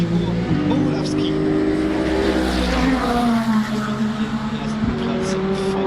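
Ferrari race car running at the Le Mans 24 Hours test day, a steady loud engine drone with shifting pitch and brief rises, with voices talking over it throughout.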